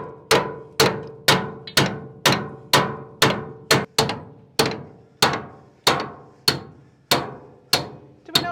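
Steady hammer blows drive an old, cheap wood chisel to free a boat's rudder assembly, about fifteen sharp, ringing strikes in an even rhythm, loud and close with no talk.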